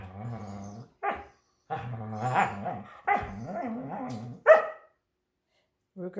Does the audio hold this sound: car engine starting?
no